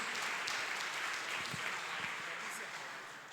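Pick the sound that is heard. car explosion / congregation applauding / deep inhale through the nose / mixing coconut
congregation applauding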